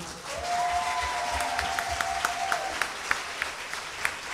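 Audience applause at a 2016 carol concert, a steady dense wash of clapping filling the room with a few sharper individual claps standing out near the end; a sustained tone from an instrument hangs over the start.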